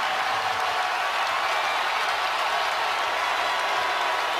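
A basketball arena crowd at a Duke versus Virginia game roars and cheers in a dense, steady wash of noise, loud and continuous throughout.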